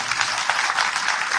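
A crowd at a farmers' movement rally claps for farmer leaders, a short burst of dense, steady applause with no talk over it.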